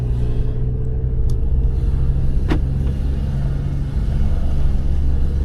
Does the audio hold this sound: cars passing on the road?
yes